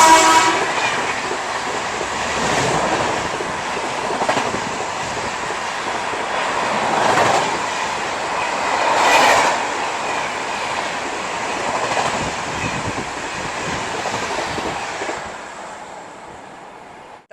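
The Punjab Mail passenger train overtakes the GRD Express on a parallel track. Its horn sounds, and the wheels clack over rail joints in a loud, sustained rumble that swells and recedes several times before dropping off at the end.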